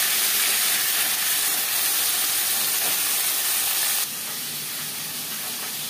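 Rohu fish pieces fry in a pan with a steady close hiss of hot oil that drops to a quieter sizzle partway through, no voices.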